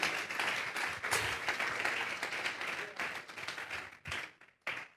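A church congregation claps together in a dense, sustained burst of applause that thins toward the end into a few scattered last claps before fading out.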